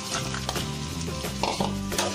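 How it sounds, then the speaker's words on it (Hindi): Baby potatoes tumbling into hot spiced oil and being stirred, a steady loud sizzle and fry with scraping and clinks of the spoon against the pan throughout, close up and with no voices. "अब इसमें हम आलू डाल लेंगे"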